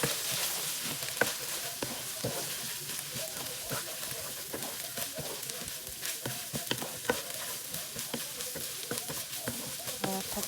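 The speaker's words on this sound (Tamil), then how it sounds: "கொஞ்சம் ஆயில் சேர்த்துக்கொள்ளுவோம். கொஞ்சம் இஞ்சி பூண்டு பேஸ்ட்டும் சேர்ப்போம். எல்லாத்தையும் நல்லா கலந்து விடுவோம்." Ginger garlic paste sizzles in oil in a pan while being stirred for chicken fried rice, a soft continuous crackle with frequent scraping taps of the spoon, fairly quiet and without speech.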